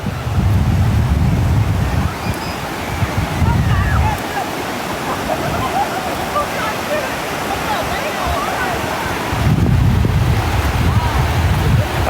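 Sea waves wash onto a beach after dark while wind buffets the microphone, with loud surges rolling in at the start and near the end and a steady roar between, faint voices underneath.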